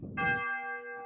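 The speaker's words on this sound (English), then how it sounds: "chimes on the lower keyboard for me" An EZ10 Zoom electronic keyboard plays a single bright chime voice on its lower manual, a clear bell-like tone ringing out and sustaining smoothly after a brief low rumble at the start.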